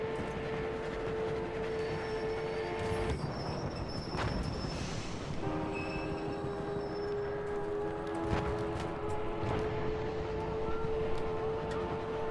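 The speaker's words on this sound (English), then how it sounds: "Who's driving the train?" A moving train in Battlefield 1 multiplayer, a continuous rumble with sustained tonal hum and scattered metallic clanks, steady and fairly loud throughout.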